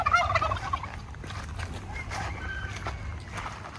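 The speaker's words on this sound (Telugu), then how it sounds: "ఇక కోళ్ళు ఉండే." Farm chickens cluck and call near at hand on open farmland, a few bursts of fowl chatter at first that fade to sparse calls over low background noise.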